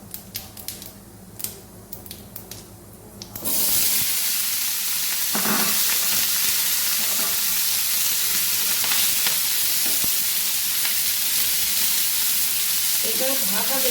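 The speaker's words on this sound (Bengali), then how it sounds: "ভাজা ভাজা হয়ে গেছে, ক্যাপসিকামটা ঢেলে দেবো।" Capsicum hits a hot pan after cumin tempering and sizzles loudly, a dense, steady fry that starts abruptly after a few quiet clinks and carries on alone with occasional stirring scrapes.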